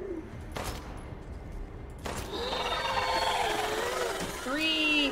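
Gunfire in the Resident Evil Village Shadows of Rose game, two sharp shots early on followed by a swelling mix of game effects and creature noises, with a further burst near the end.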